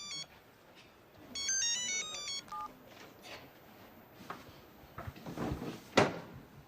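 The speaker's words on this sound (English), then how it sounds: "I know you know it is a phone. But it is ringing" A phone ringing nearby in a quiet indoor space, a short electronic multi-tone ring pattern sounding in a couple of bursts, with brief clicks and knocks around it.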